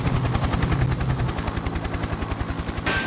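A cartoon helicopter character in the video game Happy Wheels: a fast, steady rotor chop thumping rhythmically and fairly loud, mixed with game sounds and a brief sharp noise near the end.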